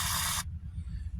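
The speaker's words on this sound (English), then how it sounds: "We're going to spray the living daylights out of this thing" PB penetrating lubricant hisses from an aerosol can in one short, close burst aimed at the rear hub bearing of a 2006 Dodge Grand Caravan, then cuts off, leaving a low hum.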